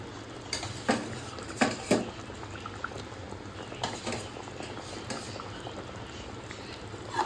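Fried eggplant being stirred into a simmering fish curry in a pan, giving a steady bubbling simmer broken by a few soft scraping and clinking stirs, moderately quiet and close with no talking.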